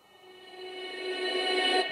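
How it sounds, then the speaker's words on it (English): A reversed vocal sample swells gradually from near silence, its tonal smear growing louder before cutting off abruptly, like a backwards breathy note. "reverse vocal, and sound like this."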